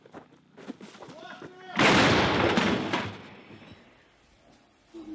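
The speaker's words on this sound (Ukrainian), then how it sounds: "Постріл!" One loud, booming artillery gun shot erupts and rolls away over a few seconds, preceded by a brief shouted firing command.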